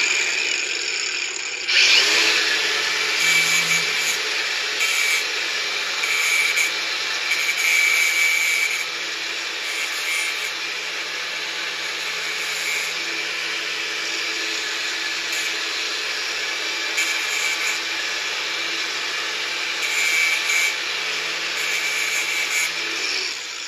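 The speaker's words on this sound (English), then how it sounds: "I need to kind of deburr it so that there's not sharp metal." A power tool whines steadily while deburring freshly cut metal pieces for an arcade cabinet restoration, with brief louder grinding bursts as the parts are pressed to it, close and continuous with no talk.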